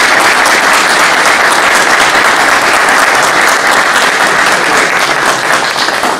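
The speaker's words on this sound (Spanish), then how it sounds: "un aplauso para la municipalidad." A crowd at a diploma ceremony and works announcement applauds the municipality, loud, sustained clapping from many hands filling the whole stretch without pause.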